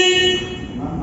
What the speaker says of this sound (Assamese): ইয়াতে হৰ্ণটো আপোনালোকে এবাৰ শুনাই দিছোঁ মই হৰ্ণটো চাউণ্ডটো কেনেকুৱা